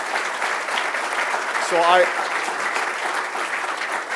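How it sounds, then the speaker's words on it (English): An audience at a talk on national security applauds in a sustained, dense wash of clapping that holds steady throughout, with a brief spoken word over it. "how about another round of applause, please?"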